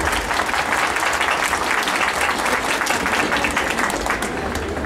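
An audience at an evening recognition ceremony in Patzún applauds Osman with loud, sustained clapping that fills the whole stretch at an even level.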